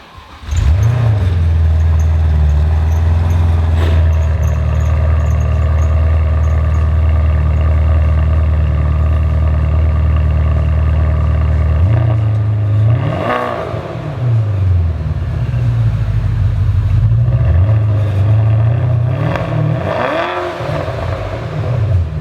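A tuned Porsche Panamera Turbo with a Fabspeed exhaust idles steadily and loudly close by, with a few brief revs rising and falling near the end.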